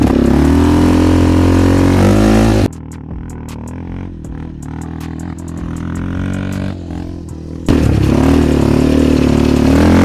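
Engine of a Yamaha Raptor 700 stage 3 quad on a test ride: loud, close revving at the start and end, with a quieter, rougher stretch of engine and wind noise in between.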